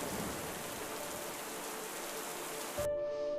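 Steady rain pattering and dripping onto a small hut with a broken roof, a dense, even wash of rainfall throughout that cuts off sharply near the end into a faint tonal hum.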